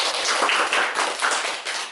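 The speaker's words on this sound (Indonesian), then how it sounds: "tepuk tangan sekali lagi" Students in a university counseling practicum class burst into brisk, close applause, dense rapid hand claps filling the room evenly from start to finish.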